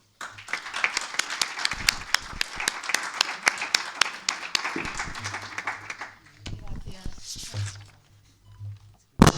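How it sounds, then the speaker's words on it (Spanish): Applause for a provincial deputy at a conference, a lively run of clapping from the audience for about six seconds, tapering into scattered claps, with a voice and some shuffling near the end. "un aplauso para nuestra diputada provincial, Pilar Sierra"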